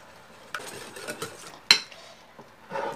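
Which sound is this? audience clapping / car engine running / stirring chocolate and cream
stirring chocolate and cream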